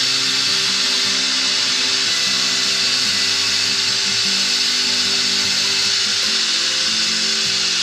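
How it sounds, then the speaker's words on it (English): A wood lathe runs steadily while an earring holder and box are turned and finished with sheen, a loud continuous whine with layered motor hum that stays even throughout. "Speed the lathe up a little bit."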